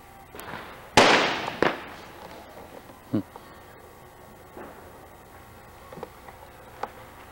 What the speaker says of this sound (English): Now they're gonna see fireworks over here.